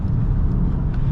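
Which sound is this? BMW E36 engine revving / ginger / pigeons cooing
BMW E36 engine revving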